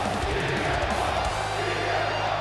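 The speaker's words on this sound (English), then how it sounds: "You can just hear the crowd here in Cleveland." A large arena crowd in Cleveland roars and cheers during a World Heavyweight Championship match between Swerve and CM Punk in WWE 2K25, with a dense, steady crowd roar throughout and a voice speaking over it.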